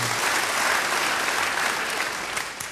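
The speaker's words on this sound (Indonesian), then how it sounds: "Beri tepuk tangan yang baik bagi dia." A church congregation applauds warmly during a Sunday morning service, dense steady clapping filling the room from start to finish, easing slightly toward the end.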